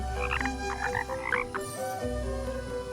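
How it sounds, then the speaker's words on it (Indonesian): Frog croaking in the video game Kena: Bridge of Spirits, a run of close, clear, tonal croaks repeating in quick succession over a soft ambient background. "ikutin suara kodok nih."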